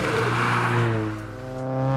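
A Subaru BRZ with a small Mitsubishi Evo turbo kit accelerates hard, its engine note rising sharply in pitch over two seconds, close and loud with no voices.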